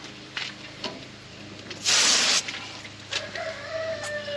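A short, loud hissing spray of water from a hose, rinsing a processed chicken, bursts for about half a second amid quieter rustling and a few small knocks.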